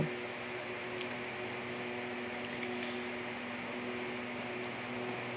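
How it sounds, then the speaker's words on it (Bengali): A mixer grinder blends boiled jackfruit seeds into batter, giving a steady, even motor whir with a low hum that runs unbroken for the whole stretch, with no voices. "সেদ্ধ কাঁঠাল বীজগুলো এবার মিক্সিতে সবটাই আমি দিয়ে দেবো, দিয়ে একটা ব্লেন্ড করে একটা ব্যাটার তৈরি করে নেব"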